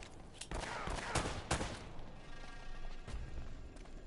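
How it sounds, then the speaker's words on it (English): Gunfire in the video game Uncharted: a dense burst of rapid game shots crackling through a busy, noisy firefight, fairly distant and continuous with no talk over it. "Who's shooting at me?"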